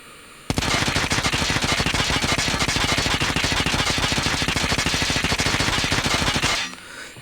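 A Cordite submachine gun in Call of Duty fires one long, unbroken automatic burst of rapid, evenly spaced shots for about six seconds, loud and close, then stops abruptly.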